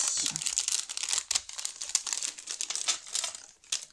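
A Studio Light craft product package is opened by hand: close, continuous crinkling and crumpling of plastic wrapping with sharp tearing bursts, no voice.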